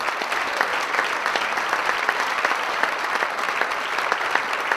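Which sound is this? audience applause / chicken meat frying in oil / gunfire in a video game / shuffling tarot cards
audience applause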